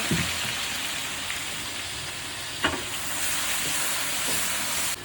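Garlic paste hits hot oil in a pan while chicken is being cooked, giving a continuous bright sizzling hiss with one or two brief clatters partway through.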